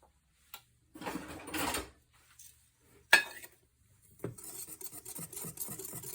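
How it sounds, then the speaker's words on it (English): A whisk stirs cocoa powder in a bowl, giving bursts of scraping, rasping strokes against the sides, with a brief clink and then a quicker run of rhythmic whisking toward the end. "Cocoa does tend to clump a little bit, but I'm just going to give it a good whisk."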